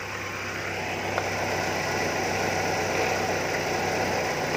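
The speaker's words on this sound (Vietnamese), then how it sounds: "xe đã được nổ máy rồi đó chị" A 2003 Daewoo Nubira's car engine idles steadily and close up, a continuous low mechanical hum with a faint rattle, unchanging throughout and with no voices.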